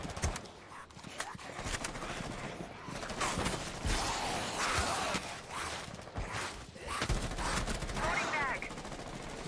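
Rainbow Six Siege Outbreak gunfire rings out in rapid bursts and single sharp shots, loud and close. Quieter gaps and gameplay noises sit between the volleys.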